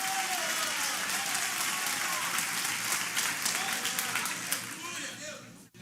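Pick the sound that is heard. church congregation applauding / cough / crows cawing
church congregation applauding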